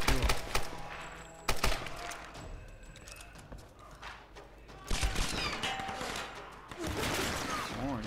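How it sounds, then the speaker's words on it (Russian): Machine gun fire in Tomb Raider 2013 comes in a few sharp bursts with heavy thuds between them, faint and somewhat distant against the game's background ambience, with a voice talking at times. "О, я слышу пулемет."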